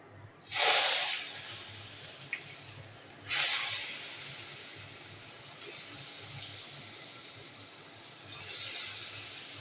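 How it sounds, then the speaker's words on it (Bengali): Eggplant slices coated in salt and turmeric hit hot oil with loud, close sizzling bursts that settle into a steady frying hiss, flaring again as more pieces go in. "তো এখন আমি বেগুনগুলো ভেজে নেব।"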